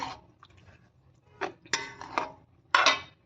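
A utensil clinks and scrapes against a pot as a dish is stirred, giving a few sparse knocks that turn into sharper clatters toward the end, close and fairly quiet.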